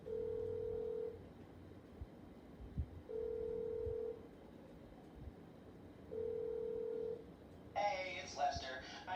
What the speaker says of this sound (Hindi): अभी ना मैं लेस्टर को ना कॉल कर लेता हूँ